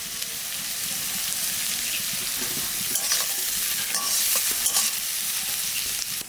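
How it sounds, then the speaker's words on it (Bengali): Sliced onion and slit green chilies sizzle and crackle steadily in hot oil in a pan, with occasional scraping as they are stirred, close and continuous without any talking. "এবার পেঁয়াজ দিয়ে দেবো পেঁয়াজটা দেওয়ার পর পরে এই চেরা কাঁচা লঙ্কাটা দিয়ে দেবো"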